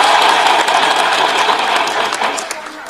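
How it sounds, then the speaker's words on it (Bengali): A large audience at a gathering on revolutionary women claps loudly and steadily, dense applause filling the space and tapering slightly at the end. "আমাদের উচ্ছ্বাসের জন্য একটা জোরে হাততালি দিই"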